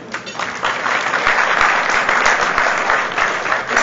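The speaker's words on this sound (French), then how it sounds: "qu'on peut applaudir" Audience applauding at a red-carpet event, a steady, dense wash of many hands clapping, loud and sustained across the whole stretch with a faint crowd murmur beneath.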